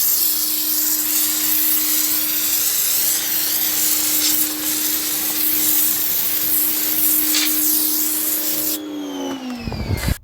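Giraffe Tools Grandfalls retractable pressure washer spraying water while cleaning: a loud, steady hiss of spray over a constant motor hum that cuts off abruptly near the end with a brief clatter.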